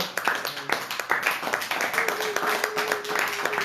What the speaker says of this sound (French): Est-ce qu'on peut encore bénir le Seigneur avec les applaudissements?